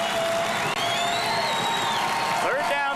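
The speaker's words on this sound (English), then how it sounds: "The Tractor fans in front of us standing up and cheering their defense on." Fordson Tractor football fans cheering their defense during a 1993 Class AA state championship high school game, a sustained crowd roar with whoops and shouts, loud and continuous with a rising cheer near the end.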